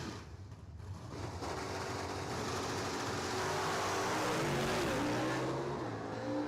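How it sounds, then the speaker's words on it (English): A Camaro and a Ford Mustang launch side by side at a dragway, engines roaring loud and steady as they pull away down the strip, a continuous broad rumble building over several seconds. "Camaro versus Ford. Camaro gets out there. I don't think he's giving it up. Mustang can't catch up."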